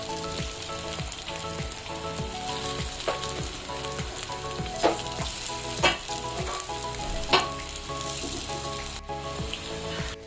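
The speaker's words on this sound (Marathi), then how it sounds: "ह्या ज्या कोथिंबीर वड्या आहेत त्या मस्त आपल्याला फ्राय करून घ्यायच्या आहेत." Coriander vadis, the savoury herb fritters, frying in oil in a pan, a steady dense sizzle with crackling throughout and a few sharper pops standing out near the end; no talking.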